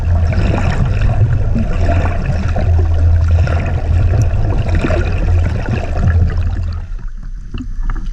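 Steady rumbling boat motor with churning, rushing water as the boat speeds through an island channel, loud and continuous before easing slightly near the end.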